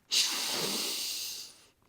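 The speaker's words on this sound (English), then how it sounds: "Breathing in." A deep, slow inhale during yoga breathing in a guided flow session, heard as one close, airy, steady rush of breath lasting over a second, with quiet silence before and after.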